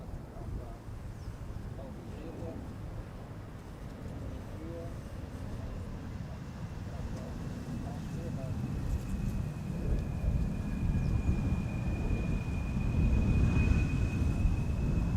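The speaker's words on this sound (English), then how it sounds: "KLM flight 1828, Embraer 175, 1 hour and 2 minutes underway." A KLM Embraer 175 airliner arrives at Schiphol's Polderbaan in a crosswind. Its deep, rumbling jet roar builds steadily louder and nearer over the clip, with a thin whine rising near the end.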